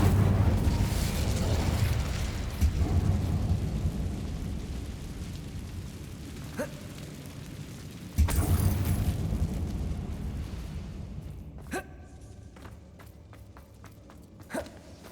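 Incendio fire spell cast in Hogwarts Legacy inside a dim mine: a loud whooshing burst of flame with low rumble, a second sharp blast partway through, then fading crackle and scattered small clicks and pops.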